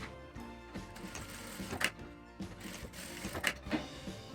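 A sewing machine stitches folded bias tape tabs in short, quiet bursts of rapid mechanical whirring, separated by brief pauses.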